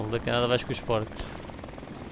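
A helicopter drones steadily through a Call of Duty: Modern Warfare match while players talk over it.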